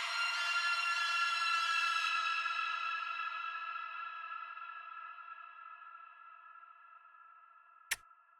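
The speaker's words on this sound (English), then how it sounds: "And then we throw a big reverb on it," A bright synth chord rings out with a few wobbling pulses, then slowly fades into a long, spacious reverb tail, broken near the end by a sharp click.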